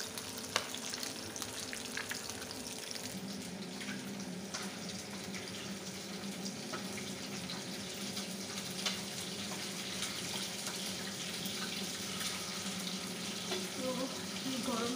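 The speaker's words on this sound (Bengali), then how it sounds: "আর এখানে হচ্ছে মাছ ভাজা।" Fish fries in a pan in a home kitchen with a soft, steady sizzle that holds for the whole stretch. Faint running water and stirring sit quietly beneath it.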